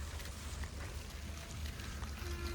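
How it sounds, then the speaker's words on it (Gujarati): Rain falling on a farm, a dense, even hiss of drops on surfaces with a low rumbling undertone, steady and unbroken, no voices. "દેખો વરસાદ ચાલુ થઈ ગયો."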